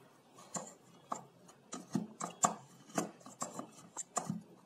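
A knife chopping lemon into small pieces on a board, a steady run of crisp close-up cuts at an even, unhurried rhythm, with no talk over it.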